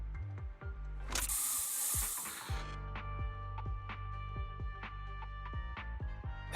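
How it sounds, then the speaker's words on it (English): A burst of hissing spray from a Bangbu canister in Zenless Zone Zero, loud and lasting about a second and a half, then fading into a backdrop of rhythmic electronic game music. "Here, have a taste of this special Bangbu spray."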